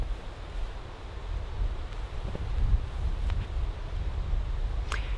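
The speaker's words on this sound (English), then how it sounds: "It is really, really windy." Strong, steady wind roars and buffets the microphone, with a low rumbling gusty noise throughout and a faint brief rustle near the end.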